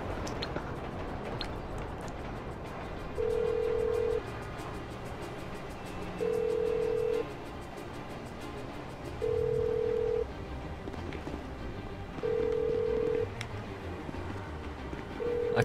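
A GTA 5 phone rings unanswered, a repeated electronic tone in even bursts roughly every three seconds, clear over game background noise.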